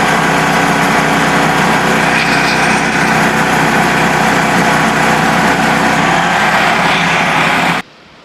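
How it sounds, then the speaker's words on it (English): A Frontier sawmill runs loud and close as its blade cuts boards from a cant, its small engine droning steadily under a harsh cutting noise that stops abruptly near the end. "I'm going to cut a couple 3/4 inch boards out of this last piece of cant here."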